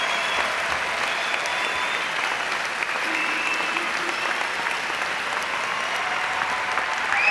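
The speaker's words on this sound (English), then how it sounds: "a round of applause" A crowd applauds the graduates at the close of the 2010 Case Western Reserve School of Graduate Studies diploma ceremony: steady, dense clapping from a large audience filling the hall, unbroken throughout.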